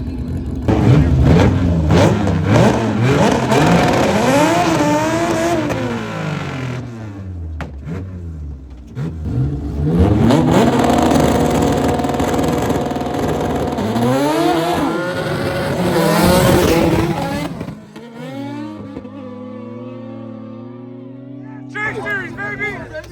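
Street race cars, Hondas among them, rev hard and accelerate close by, with engine pitch sweeping up and down through repeated gear changes in two long loud bursts, followed by quieter idling as people talk over it.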